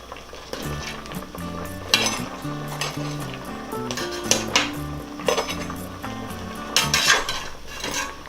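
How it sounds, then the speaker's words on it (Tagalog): Onions stirred into crabs frying in a pan, with a utensil clanking and scraping against the metal over a steady sizzle, close up with background music and no talk. "itong ating crabs ay pwede na pong ilagay ang ating sibuyas. Hahaluin lang natin to."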